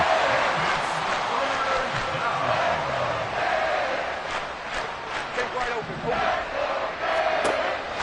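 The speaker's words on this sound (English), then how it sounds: "This crowd turning up the decibel level." A football stadium crowd at an NFL game roars loudly and steadily throughout, a dense wall of cheering and shouting that swells in places with no quiet gaps.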